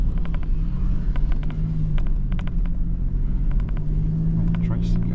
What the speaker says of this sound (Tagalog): May tricycle na naman doon.